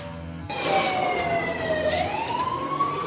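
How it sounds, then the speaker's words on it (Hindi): A war siren sounding during a civil defence test drill, a loud wailing tone that starts abruptly, holds, dips in pitch, then rises again, close and continuous with faint rumble beneath. "ये आज सिर्फ सायरन की टेस्टिंग थी।"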